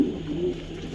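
A female racing pigeon cooing steadily and close by, a low continuous murmur with no other sounds.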